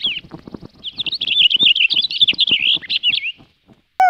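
In the Disney Learning Phonics Quest video game, birds chirp in quick, bright trilling calls over a cluster of brief percussive sounds, loud and close, ending with a short tone.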